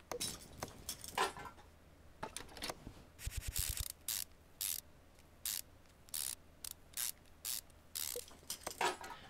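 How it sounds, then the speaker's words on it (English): Ratchet wrench torquing engine cylinder head bolts in the video game Car Mechanic Simulator 2015, bursts of rapid mechanical clicking repeated in short quick runs, close and crisp, separated by brief pauses. "Make sure we torque these heads, you know, right down to the proper torque"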